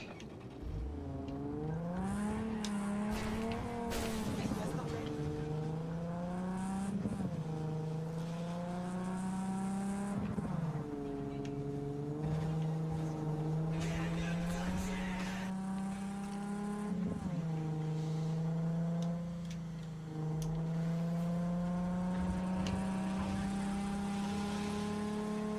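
An old dented car driving in the video game Cyberpunk 2077, its engine droning steadily and rising and falling in pitch as it shifts gears and accelerates, loud and continuous with no voices.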